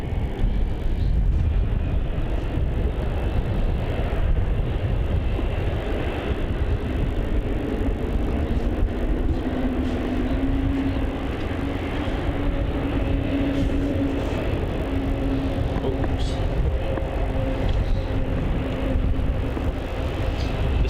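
A Qantas jet, flight QF426 bound for Sydney, departs runway 34 at Melbourne Airport, its engines a steady, broad roar that holds throughout with a low rumbling drone rising slightly midway.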